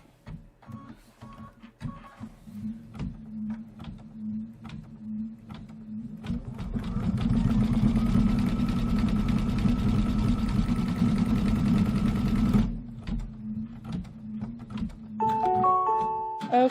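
Embroidery machine stitching out felt leaves for a Kimberbell Main Street pillow wall hanging, a steady mechanical whirring hum that builds and holds loud for several seconds before stopping, with lighter tapping around it.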